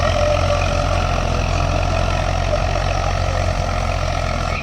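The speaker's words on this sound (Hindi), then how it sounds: "हाई के फर्स्ट गियर में ट्रैक्टर चल रहा है अभी।" A 45 hp Eicher 485 tractor pulls a 2 MB plough through a field in high-range first gear. Its engine gives a loud, steady, close diesel drone throughout with no talk.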